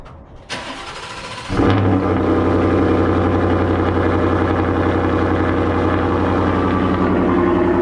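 A starter cranks briefly, then the 5.0 V8 of a 2018 Ford F-150 pickup with a Corsa Extreme exhaust fires up cold with a loud roar and settles into a deep, rumbling, aggressive idle close by.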